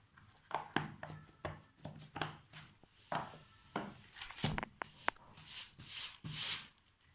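A closed bottle of mixing solution shaken repeatedly, making rapid rhythmic rubbing and sloshing bursts in quick succession, close and fairly quiet.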